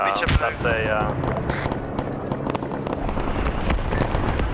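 A napalm strike explodes in the Vietnam War video game SOG Prairie Fire, a loud crackling, rumbling blast that keeps burning throughout while people talk over it.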